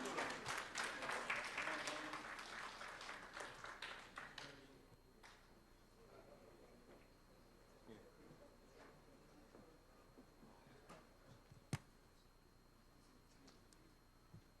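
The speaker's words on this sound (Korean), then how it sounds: "큰 박수로 맞이해 주시기 바랍니다." Applause from an audience at a lecture rises loudly and then fades out, leaving a quiet room with a few scattered taps and one sharp knock.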